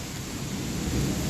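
Heavy rain pours steadily with the low rumble of thunder underneath, a dense continuous wash of sound with no voices.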